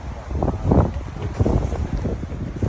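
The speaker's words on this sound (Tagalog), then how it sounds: "Oo, kasi sobrang lakas ng hangin." Strong wind gusts roar and buffet the microphone in loud, rumbling surges, with a continuous low rush throughout, at a campsite with tents.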